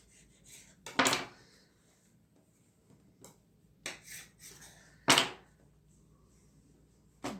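Knife cutting through the middle of a crispy potato börek made with ready-made yufka pastry, a few sharp crunchy cracks and crackles spaced irregularly, close and fairly loud against quiet.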